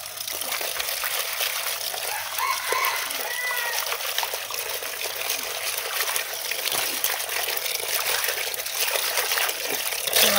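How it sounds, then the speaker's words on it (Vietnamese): Tap water runs steadily into a basin being filled, a continuous bright hiss and trickle that stays level throughout, with a voice speaking faintly in the background. "Mình xả nước cho nó đầy ra"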